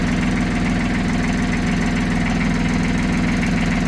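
Tractor engine idling steadily after a month and a half unused, a loud, close, even rhythmic chug with no talking.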